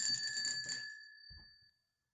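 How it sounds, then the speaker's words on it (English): A single bell strikes once and rings out with a bright, sustained tone that slowly decays, heard alone with a faint low thump near the end. "I'll ring the bell."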